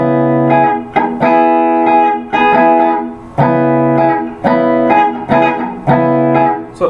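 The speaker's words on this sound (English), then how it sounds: "So you're going to play down up fast and then kill the sound with staccato." Electric guitar strums a rhythm of fast down-up chord stabs cut short with staccato muting, repeating in a steady syncopated pattern, loud and close with no voices.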